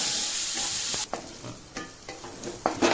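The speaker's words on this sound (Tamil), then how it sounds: "அடுப்பை சிம் மாட்டிட்டு இன்னும் ஒரு 3 மினிட்ஸ் வதக்கணும்" Onion and capsicum sautéing in a pan on low heat for capsicum thuvayal, a soft steady sizzle broken by several spatula scrapes and stirring knocks, close by with no voices.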